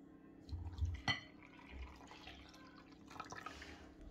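Warm water is poured into a bowl of yeast and sugar, with soft liquid splashes and drips plus a sharp clink of a glass or bowl, quiet and close with no voices.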